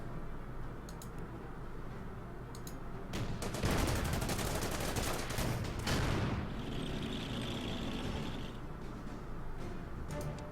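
Gunfire aimed at a Stuart tank in the strategy game Order of Battle erupts as a dense, loud burst of shots in the middle, over a steady low hum of game ambience.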